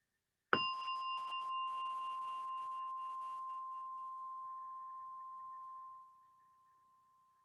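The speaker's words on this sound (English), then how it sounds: "As you hear the gong, and do the practice." A single meditation gong is struck once to open practice, ringing clear and bright, its steady tone sustaining and slowly fading over about six seconds before dying away into silence.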